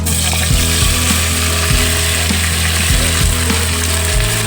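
Ginger, onion and green chili hit hot oil for an aloo matar curry, producing a loud, constant close sizzle overlaid by a steady mechanical hum with periodic rhythmic pulses, and no one talking.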